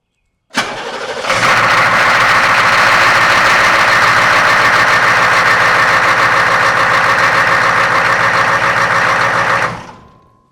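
A Humvee engine cranks and fires, then runs at a loud, steady idle with its harmonic balancer spinning, close up, before cutting off abruptly near the end.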